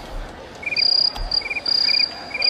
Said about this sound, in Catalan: Posa els grills, va.